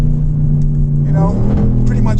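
A 2016 or 2019 Range Rover Sport's engine drones loud and steady from the cabin, pitch rising slightly as it is driven hard in manual mode with paddle shifters; a voice talks over it.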